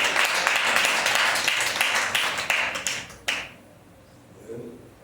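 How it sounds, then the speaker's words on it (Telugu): A church congregation claps together in praise during a Christian prayer service: dense, steady applause for about three seconds that stops abruptly, leaving a quiet room with a brief murmur. "అందరూ చప్పట్లు కొట్టి దేవునికి స్తోత్రం చేయాలి"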